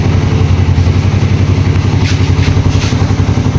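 A 2017 Suzuki Raider 150 carburetor motorcycle engine runs steadily up close, a loud, even, rapid putter with slight clatter throughout.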